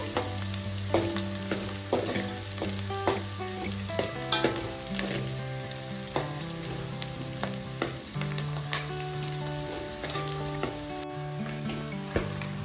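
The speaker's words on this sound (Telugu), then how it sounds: "గోల్డెన్ కలర్ వచ్చేంత వరకు కొద్దిగా వేయించాలి." Onions and green chilies fry in a pan for a homemade dal khichdi, with a steady close sizzle and occasional crackles and stirring scrapes, and no voices.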